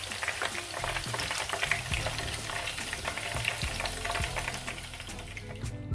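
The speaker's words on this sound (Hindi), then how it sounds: "दूसरी साइड को भी फ्राई होते हुए 5 मिनट हो गए हैं" Lahori chargha chicken frying in a pan, a steady dense sizzle with crackling spatter and occasional stirring knocks, close and continuous with no voices.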